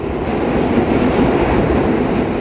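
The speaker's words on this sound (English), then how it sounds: "It's got subway rumbles underneath our feet." Deep subway train rumble rising from beneath a city square at Verdi Square, a steady loud low roar with faint clattering, continuous throughout with no voices.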